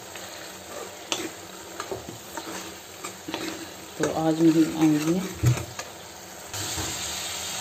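Tadka for dal sizzles and hisses in a pan, with stirring scrapes and a louder burst of frying midway, while someone talks over it.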